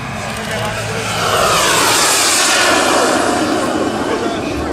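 A model airplane flies past at a small-aviation air show, its engine making a loud, steady roar that swells as it comes near and then holds in a broad, rushing drone.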